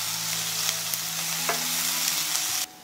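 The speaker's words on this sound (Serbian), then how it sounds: "Na zagrejanu mast dodajem ostatak luka i belog luka i sve ću to promešati i pržiti dok luk ne omekša." Onion and garlic frying in hot lard, a steady broadband sizzle with a few soft stirring scrapes, close and continuous until it cuts off abruptly near the end.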